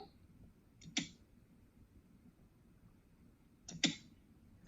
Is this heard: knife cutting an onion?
no